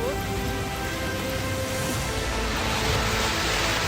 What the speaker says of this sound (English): The hailstorm is destroying cars parked on the street.